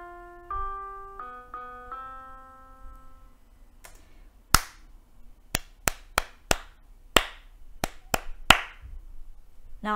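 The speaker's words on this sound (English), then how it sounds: "I was kind of singing the tune in my head as I clapped it" Hand claps in an uneven rhythm, about ten sharp, close claps with varied spacing, following a short melodic piano-like passage for an RCM exam rhythm clapback exercise.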